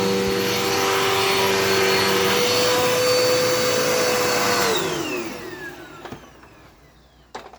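A Dirt Devil Endura Reach vacuum cleaner runs with a loud, steady motor whine close by. It then winds down and shuts off, leaving a few faint handling clunks afterward.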